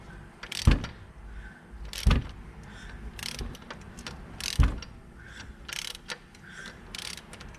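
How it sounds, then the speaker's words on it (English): Ratcheting clicks and metallic clunks as the crankshaft of an Opel Meriva 1.7 CDTI is turned by hand with a 24mm wrench during a cylinder head gasket job, with sharp knocks recurring every couple of seconds, quiet and close. "I am turning on the crankshaft with 24mm wrench."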